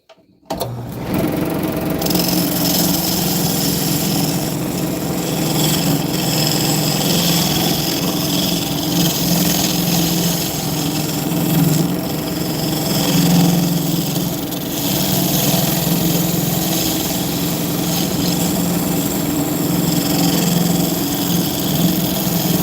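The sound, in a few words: square carbide tool shoring up a lip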